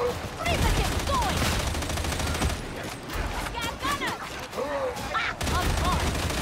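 Rapid gunfire and shard weapons in Warhammer 40k Darktide, a dense continuous barrage of shots with booming impacts and chaotic combat noise throughout, with voices mixed in.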